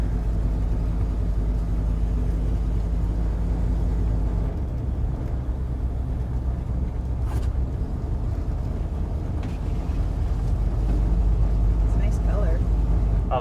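A 1973 Dodge D100 pickup truck drives along with a continuous, loud low engine rumble that holds steady throughout and swells slightly toward the end.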